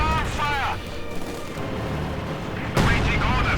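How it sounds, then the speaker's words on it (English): Company of Heroes 2 match audio with booming field guns and gunfire in a dense, loud battle mix, a sharp blast near the end, with a voice talking over the noise. "Coming under fire from the SU-85 from field guns"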